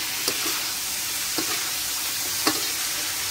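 A spoon stirs tinola heavy with black pepper in a pot, with a steady sizzle and three soft scraping knocks spaced about a second apart.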